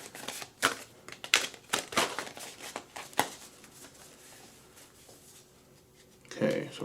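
A deck of oracle cards is shuffled close by, quick crisp riffles and papery slaps in an irregular rhythm, fading to soft handling before a final rustle.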